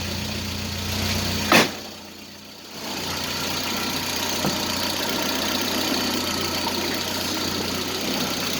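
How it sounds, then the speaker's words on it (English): A steady engine idles a little high with an even low hum and low fuel pressure, briefly interrupted by a sharp clunk and a short dip in level before the idle resumes. "I think it's idling a little high."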